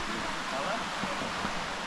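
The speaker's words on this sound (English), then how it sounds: "That's where the brook is coming down as we were walking now. Kind of converges here, I guess, and goes into a little bit of a waterfall." A brook running down and converging into a small waterfall in Shenandoah National Park in winter. The water gives a steady, full, close rushing that continues evenly with no breaks.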